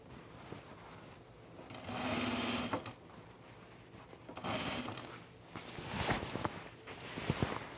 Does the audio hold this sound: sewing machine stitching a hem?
yes